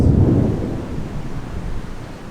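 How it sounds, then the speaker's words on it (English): Thunder rumbles low and heavy through pouring rain at Walt Disney World, a single deep roll that starts strong and slowly fades over a couple of seconds, with no talking over it. "You hear that thunder?"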